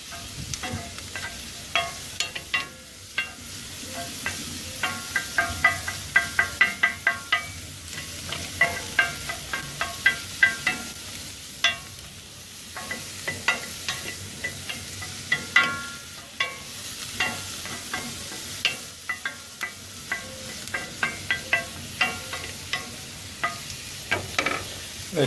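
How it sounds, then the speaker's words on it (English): Shrimp sizzle steadily in a hot pan for a long stretch, broken by frequent sharp scraping and clacking taps from stirring; close and moderately loud, with no talking. "And I'm going to add the shrimp into it."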